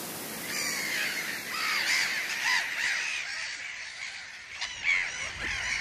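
Mediterranean gulls call from a breeding island in a salt lake, a chorus of harsh, repeated cries from several birds at moderate distance over steady outdoor ambience.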